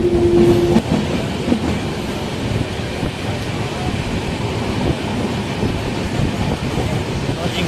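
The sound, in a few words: train running on tracks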